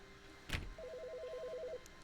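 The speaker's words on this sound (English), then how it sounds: "Oh, phone." A telephone rings in The Stanley Parable video game with a rapid warbling electronic trill lasting about a second, preceded by a short thud, fairly faint with no talking.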